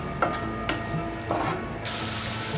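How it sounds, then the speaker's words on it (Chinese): Lion's mane mushrooms stir-frying in a little oil in a wok, giving a soft steady sizzle broken by a few scraping stirs, then a brighter, louder hiss near the end. "锅内放入少许油，把猴头菇放进来炒香"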